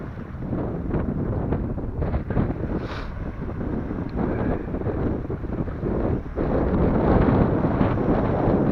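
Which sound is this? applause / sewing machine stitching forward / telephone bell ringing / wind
wind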